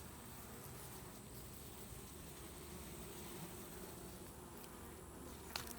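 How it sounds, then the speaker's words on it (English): An opened honeybee hive hums with a dense, steady buzz from the colony, continuous and moderately close throughout, with a brief knock near the end. "Good looking colony of bees here."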